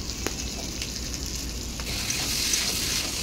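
Potatoes frying with spices in a pan for an egg curry hiss in a steady, close sizzle that holds level throughout with no pauses.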